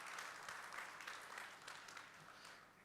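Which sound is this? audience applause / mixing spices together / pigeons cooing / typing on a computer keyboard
audience applause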